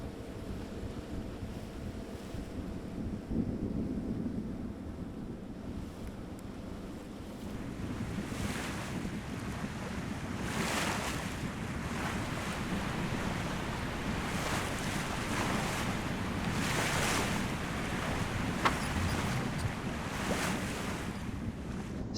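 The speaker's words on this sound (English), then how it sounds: "After 3 hours of sailing, we re-enter Bora Bora Atoll," Sailing yacht surfing on ocean swell while entering the Bora Bora atoll: steady rushing wash of waves and water along the hull mixed with buffeting wind, rising in repeated surges, continuous and close.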